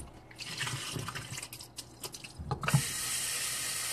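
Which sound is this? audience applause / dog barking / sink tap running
sink tap running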